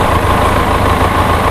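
A Benelli TRK502X motorcycle engine runs loud and close, a steady, throaty mechanical roar that holds even throughout.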